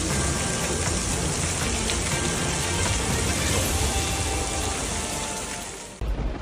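Heavy rain falling in New York, a dense, loud, continuous hiss of downpour on surfaces that fades slightly near the end before a brief cut.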